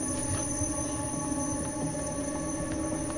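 Passing trains in the video game Inside make a steady low rolling drone, with thin, high metallic whines and scattered faint clicks.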